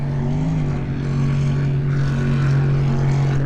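Racing powerboat Money Monster with a big motor roaring at the Englewood Beach Waterfest world championship races, a steady droning engine hum carrying over the water at moderate distance, alone with no talk.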